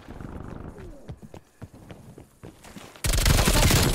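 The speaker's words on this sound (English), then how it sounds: "Multiple hostile sentry turrets working on you." Scattered sharp impacts and distant action in Call of Duty: Black Ops Cold War give way to a sudden, loud, sustained burst of automatic sentry turret fire in the final second.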